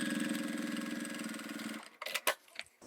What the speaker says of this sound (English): Fold it out and top stitch.